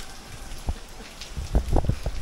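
Rain falls outdoors during a bike trek in the ghats, a steady hiss of drops with a few louder, closer patters and low rumbles toward the end of this brief stretch.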